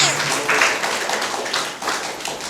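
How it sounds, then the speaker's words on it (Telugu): A congregation claps hands in praise during a church worship service, a dense, steady patter of many hands filling the room without pause. "చప్పట్లు కొట్టి ప్రభువుని స్తుతించండి"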